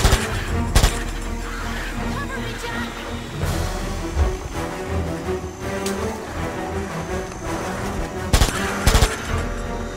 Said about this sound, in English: I got a Tommy gun.